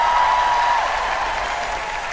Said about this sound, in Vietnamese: chúng ta sẽ vỗ tay thật lớn để cảm ơn ban nhạc của chương trình này